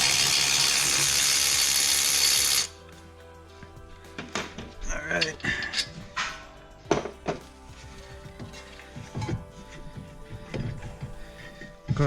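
A Dodge Journey R/T's brake caliper bolt comes out during a lower ball joint job. A short burst of rushing tool noise gives way to ratcheting clicks, metallic clunks and handling knocks, close by and intermittent.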